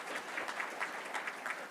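Audience at an agricultural food-security conference giving a short burst of applause, soft and somewhat distant, an even patter of many hands with no talk over it.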